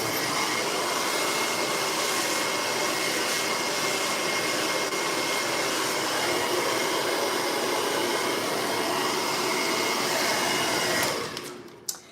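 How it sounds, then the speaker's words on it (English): A handheld hair dryer blowing on hair runs as a loud, steady close whoosh for about eleven seconds, then cuts off abruptly, followed by a brief click. "I'm much more comfortable when I'm using this type of dryer on my left side"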